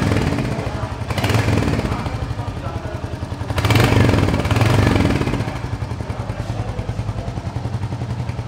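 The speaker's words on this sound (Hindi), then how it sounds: "अब आप इसके इंजन का साउंड सुनिए और इसका एग्जॉस्ट नोट भी सुनिए।" A Royal Enfield Hunter 350 motorcycle engine idles with a throaty exhaust note, revving up twice in swells before settling back to a steady, close-up rumble.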